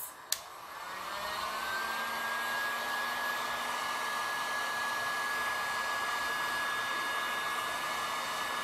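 A heat tool blows hot air onto Thibra thermoplastic being shaped into a cosplay piece. After a sharp click at switch-on, a loud, steady, close whine and rush of air holds at constant strength with no speech.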